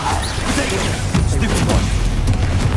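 A Confringo spell blast goes off in Hogwarts Legacy, heard as a continuous rumbling, booming wash of combat noise with crackling mechanical clatter, loud and sustained under a voice speaking.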